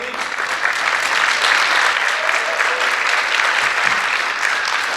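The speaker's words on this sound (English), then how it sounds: "can you please give you all a round of applause?" A keynote audience at the ICBC Barcelona 2024 conference breaks into loud, steady applause, a dense wash of clapping that holds for several seconds, with a faint voice or cheer briefly underneath.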